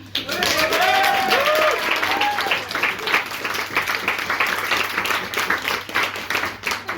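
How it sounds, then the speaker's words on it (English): An audience at a student stand-up comedy gig claps loudly after a set, with a few whoops near the start. The sharp, rapid clapping continues for several seconds, then thins and fluctuates as it tapers. "another round of applause"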